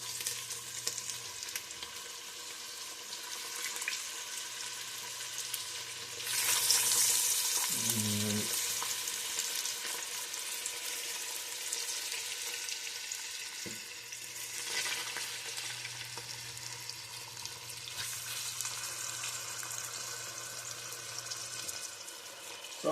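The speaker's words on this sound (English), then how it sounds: "You want to hear that sizzle." Steady frying sizzle of chicken tenders throughout, with a brief louder burst of crackling and a clatter partway through as the chicken hits the hot pan.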